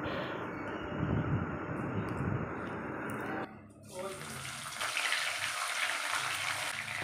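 Chopped onion hits hot mustard oil with panch phoron spices and sizzles loudly at close range; after a few seconds the hiss abruptly drops, then returns as a softer, airier frying sound.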